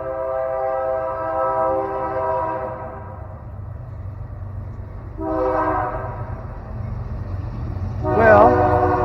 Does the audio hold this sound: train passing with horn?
yes